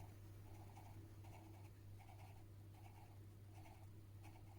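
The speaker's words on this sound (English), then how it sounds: "The sound of the pencil on the paper." Soft, close graphite strokes scrape paper in a loose rhythm of short bursts, with a faint constant hum underneath.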